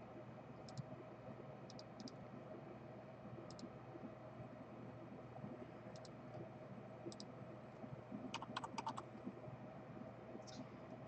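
Keyboard typing on a computer during level building in Unreal Engine 4, sparse short bursts of light key taps over a steady fan-like hiss, with a denser cluster of keystrokes near the end.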